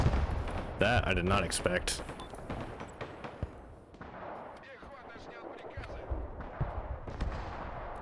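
Gunfire from an attacking unit in the military strategy game Broken Arrow, with a burst of close, sharp shots early on, then a rumbling mix of scattered shots and explosions under a speaking voice.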